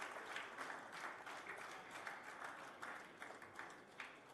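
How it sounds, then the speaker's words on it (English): A stage event audience gives a round of applause for a company general manager; steady, fairly faint, distant clapping throughout with no speech. "A thunderous round of applause"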